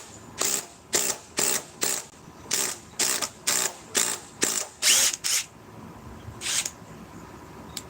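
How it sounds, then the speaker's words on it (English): A DeWalt 860 impact wrench backs a fastener off in about ten sharp, evenly spaced bursts of rattling hammering, loud and close, followed by a pause and one last short burst. "Now let's remove it again with the DeWalt 860."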